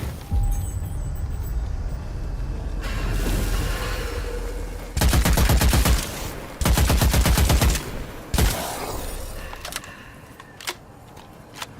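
Bursts of rapid gunfire from Witchfire ring out close and loud, with two sustained automatic volleys in the middle and a single sharp shot after them, set against a quieter ambient hum.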